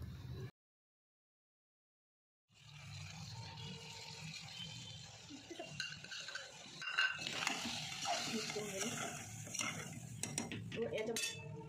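Spoon stirring red chili powder, turmeric, garam masala and salt into a vatana bhat pea mixture in a pot, scraping and clinking against metal, after a brief silence at the start.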